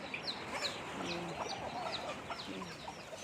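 A mother hen with young chicks clucks softly nearby in a village yard, short repeated clucks scattered among faint chick peeps, with no voices present.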